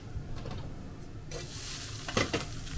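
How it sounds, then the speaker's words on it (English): Noodles for Osaka-style okonomiyaki fry on a griddle with a soft hiss and quiet stirring, and a brighter sizzle swells midway as they are turned, faint and close with no talk. "brown a little bit outside of the noodles to make it crispy"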